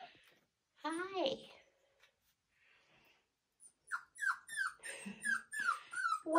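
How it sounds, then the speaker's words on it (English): Young Australian Shepherd puppies whimper up close in a quick series of high, squeaky cries, after a brief soft vocal sound near the start. "all my little puppies"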